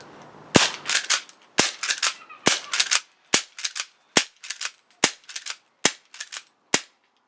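An A&K 1892 Mare's Leg lever-action airsoft rifle fires in rapid succession: about a dozen sharp, close cracks come at a fairly steady rhythm, with brief mechanical clatter between them and no talking.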